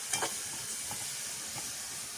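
Tomatoes sautéing and frying to a paste in a pan, giving a steady, close hiss of sizzling with a few faint stirring clicks.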